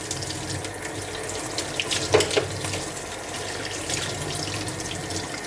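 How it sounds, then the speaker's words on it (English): Water runs steadily from a sink tap while clipper brushes are rinsed under it, a continuous splashing hiss with a few brief louder splatters, close and alone with no talk. "But to get the water hot, just let the water run through all the brushes."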